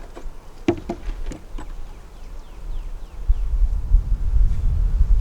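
Honeybees drone in a low, steady hum around an open beehive, with a few sharp clicks and knocks early on and the buzzing thickening toward the end, close by and with no voices.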